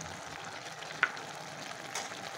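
Fried fish goes into a pumpkin curry simmering in a pan, making a steady soft sizzle with a brief clink or splash partway through.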